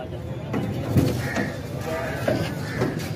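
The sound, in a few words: goat bleating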